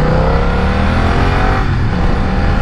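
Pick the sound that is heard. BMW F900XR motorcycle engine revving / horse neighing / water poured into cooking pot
BMW F900XR motorcycle engine revving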